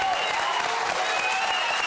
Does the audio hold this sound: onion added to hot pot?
no